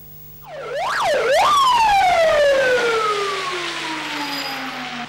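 Fire engine siren from one of three fire trucks called to a kitchen fire in a flat on the second floor of a high-rise, rising in two quick whoops then holding a long, loud, slowly falling wail.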